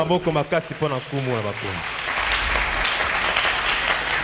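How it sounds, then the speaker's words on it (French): A church congregation breaks into applause just after a voice finishes speaking, a broad wash of clapping that builds and holds at a steady level. "Acclamons très fort pour le"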